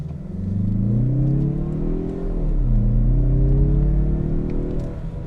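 A 2022 Mazda CX-30 AWD turbo SUV accelerates in sport mode, its engine note rising through the revs, dipping briefly at a gear change, then climbing again. The loud, close drone of the engine dominates, with no voices.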